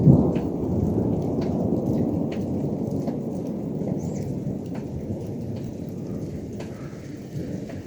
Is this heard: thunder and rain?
yes